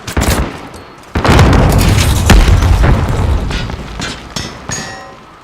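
A grenade detonates in the shooter Modern Warfare during a multiplayer fight over a capture point: a loud, deep boom bursts out and rumbles for several seconds, with gunfire crackling around it.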